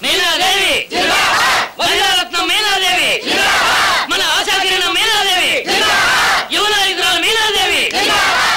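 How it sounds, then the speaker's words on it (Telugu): A huge political crowd roars and chants in rhythmic waves, loud and close, with repeated surging shouts broken by short pauses. "విన్నావా జనం సముద్రంలా కదిలి వచ్చి ఎలా ఘోషిస్తున్నారు"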